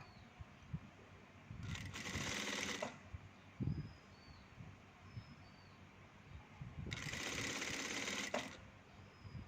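A sewing machine stitches fabric for a donut-style hair scrunchie. Two clear runs of rapid mechanical whirring, each lasting about one to two seconds, are separated by quieter handling noises in a calm room.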